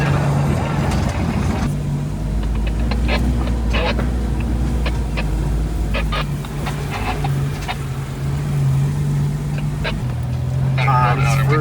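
A Jeep rolls along a forest trail during a group trail ride, its steady low engine drone running continuously and close, with scattered clicks and knocks from the terrain.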